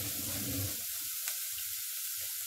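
Water poured into instant noodles, a continuous close hissing rush from start to finish with a brief louder splash near the middle.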